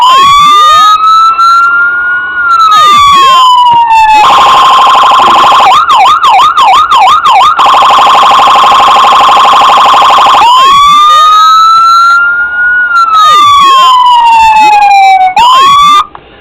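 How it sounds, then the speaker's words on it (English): A custom 1:18 1974 Ford Torino Starsky & Hutch model with working lights sounds a very loud electronic siren, cycling through wailing sweeps, a rapid yelp and a steady tone, close and with no other sound. "Let's go ahead and turn the siren on."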